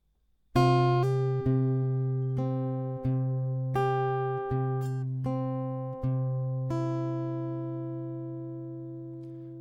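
An acoustic guitar slowly picks single notes, about nine clear plucks in an unhurried rhythm, each ringing and fading before the next, with no voice.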